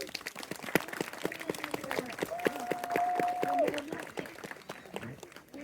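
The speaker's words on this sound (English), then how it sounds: "give her a really big round of applause" Audience applause at a winter bird of prey show at Warwick Castle, a crowd clapping at moderate loudness with a sustained whistle-like tone and some voices mixed in.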